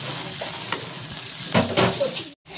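Vot kochu (arum) pieces fry in a pan, a close steady sizzle with scraping stirs and a few clinks of the spatula, cut off briefly near the end.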